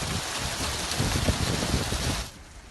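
Steady sleet and hail pattering hard on a surface during a thunder sleet storm, a dense continuous hiss that fades abruptly near the end.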